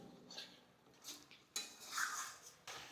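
Katla fish curry being stirred in a pan, with a metal spoon scraping and clinking against the pan in a few separate strokes, close and fairly quiet, with no talk.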